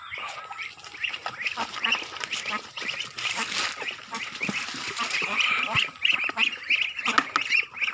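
A flock of ducks quacks steadily and busily throughout, with honking calls mixed in and a dense, close chorus of overlapping voices.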